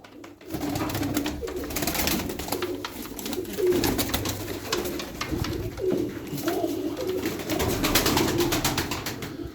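Tumbler pigeons coo in a loft, a continuous chorus of low, throaty rolling calls from several nearby birds, overlapping with faint flutters and rustles.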